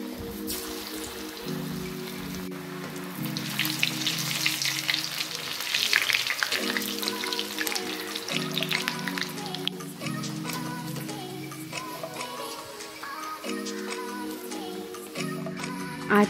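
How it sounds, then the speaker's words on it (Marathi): Steamed palak vadi dropped into hot oil, frying with a steady crackling sizzle like rain on a surface, swelling louder midway and holding on, with a low repeating tonal hum beneath it. "त्याच्यामध्ये मी शिजवून घेतलेले वडे सोडतो तेलात"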